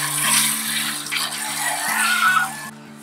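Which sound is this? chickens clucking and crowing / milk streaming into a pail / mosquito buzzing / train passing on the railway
milk streaming into a pail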